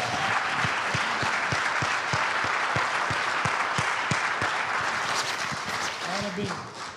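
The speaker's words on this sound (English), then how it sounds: "let's give our guests a hearty round of applause" A church audience breaks into sustained, dense applause for guests, a loud continuous wash of clapping with sharp individual claps and voices mixed in throughout.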